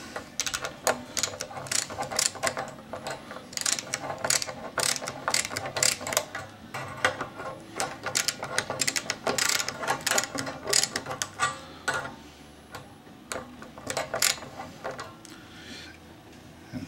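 Screws being driven into a Floyd Rose bridge on a guitar under construction, giving repeated close clicking, ratcheting mechanical bursts with short gaps, loud and without talk.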